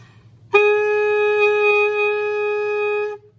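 A single sustained alto saxophone note begun with a firm embouchure, entering cleanly and holding steady, bright and close for about three seconds before stopping, played alone.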